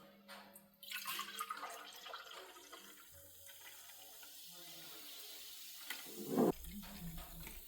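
Homemade fizzy mandarin ginger bug soda pours into cups in a trickling, splashing stream, quiet and close, ending with a brief louder gush.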